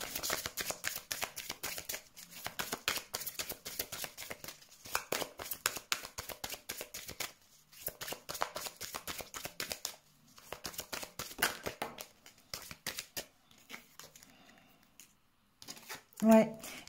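Tarot cards are shuffled by hand in rapid, crisp riffles and flicks, close and fairly soft, with brief pauses between bursts and a French-speaking voice talking at points alongside.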